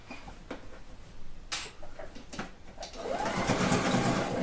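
A domestic sewing machine stitches a patchwork quilt coat, first with a few sharp clicks and taps, then running steadily and close for the last second and a half.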